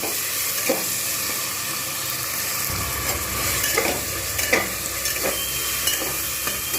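Ginger garlic paste sizzles and spits in hot oil in a pan while being stirred for a mutton and potato curry, a steady frying hiss broken by a few scraping stir strokes.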